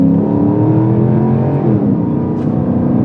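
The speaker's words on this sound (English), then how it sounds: "So just want to do one more pull to see how awesome this is" An offroad-built Porsche Cayenne S accelerates hard, its exhaust rising in a loud, close, continuous roar with climbing engine harmonics, heard alone without talk.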